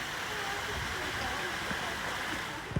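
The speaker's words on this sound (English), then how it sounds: "What a beautiful waterfall." A waterfall splashes in a Japanese tea garden with ferns, moss and a koi pond, giving a steady, soft broadband rush of falling water that stays even throughout.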